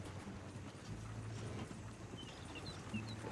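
Horse hooves clip-clop steadily at a walking pace in Red Dead Redemption 2, close and moderately loud, with a light background ambience and no talk over the steps.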